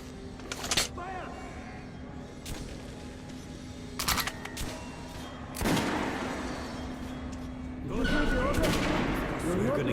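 Gunfire in Metro: Last Light Redux: sharp bursts of shots crack out at intervals, with loud volleys at the end, mixed with game noise and a steady hum.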